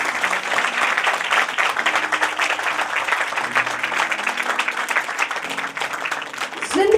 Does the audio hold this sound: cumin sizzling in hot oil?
no